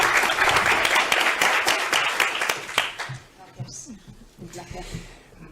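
A seminar audience at a business talk gives loud, dense applause for about three seconds, which then fades as a speaker's voice takes over.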